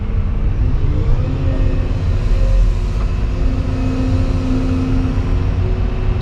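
A Volvo machine drives along with a steady loud engine rumble, low and continuous, with a faint rising tone as it pulls, heard close and alone with no talk.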